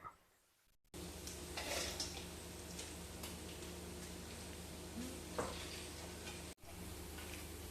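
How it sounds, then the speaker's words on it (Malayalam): Two kilograms of beef frying in a pan for pickle, a steady close sizzle running throughout with small ticks and stirring scrapes, a brief pause near the start and another near the end. "നമ്മൾ അവസാന ബാച്ച് ഇട്ടിട്ടുണ്ട്. അതൊന്ന് ഫ്രൈ ആയി വന്ന്"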